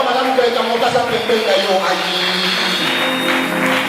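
Applause and cheering from a church congregation at an evening service, loud and crowded, with voices mixed in throughout.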